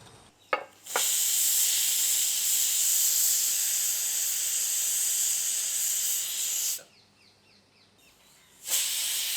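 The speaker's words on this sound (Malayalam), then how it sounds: "2 വിസിൽ അടിക്കട്ടെ കേട്ടാ." A pressure cooker of vegetable curry in a village kitchen lets out a loud, sustained steam hiss for several seconds, falls quiet, then starts hissing again.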